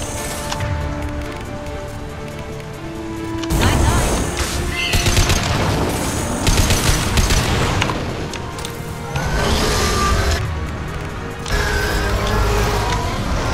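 Gunfire and an Impact Shot power in the video game Mass Effect 2 during a fight with crawlers, with repeated bursts of shots, booms and mechanical clatter rising in waves over a continuous game soundscape.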